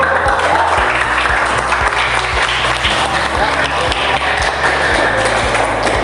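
A classroom of students applauding, a dense steady burst of clapping from many hands that carries on loud and close throughout.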